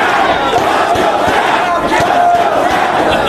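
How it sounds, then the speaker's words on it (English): Wrestling crowd at a Ring of Honor Redemption match between Homicide and Matt Hardy chants rhythmically for Hardy, a dense, loud roar of voices with pulsing emphasis filling the whole stretch. "Homicide heard the fans chanting for Matt Hardy, trying to encourage him on"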